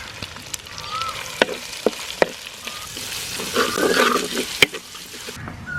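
Onions and salt frying in a pan for a Kerala fish curry, a steady close sizzle broken by sharp spatula scrapes and clacks against the metal, with no talking.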